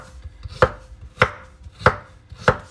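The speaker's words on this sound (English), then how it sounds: "Now we're going to chop them." A knife chops cucumber into big chunky pieces on a board, four evenly spaced sharp thuds about a second apart, close and clear with no voice.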